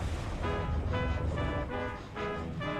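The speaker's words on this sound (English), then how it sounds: "That's my automated ocean breeze simulator." An automated ocean breeze simulator from the Wallace & Gromit game gives off a steady whooshing wash with rhythmic tonal surges about every half second, loud and continuous throughout.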